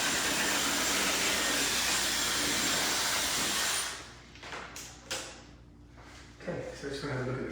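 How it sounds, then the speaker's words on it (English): A hair dryer blows hair dry during a short layered women's haircut, a loud steady whooshing roar for about four seconds that then cuts off, leaving quieter room sounds and handling. "you just get the hair dry."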